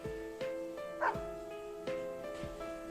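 Dog barking in the fighting game Persona 4 Arena, a series of short yapping barks and a whimpering yip in irregular rhythm over a faint steady background tone, fairly quiet.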